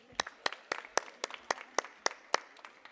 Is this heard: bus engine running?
no